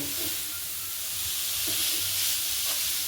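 Carrot halwa mixture frying in ghee gives a steady, close sizzle with a soft hiss throughout, broken by a few faint stirring scrapes and no voices.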